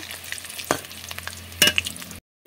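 Fish roe frying slowly over low heat in a pan and being stirred, with intermittent scraping clatters over a steady soft sizzle, then a brief silence before a final stir.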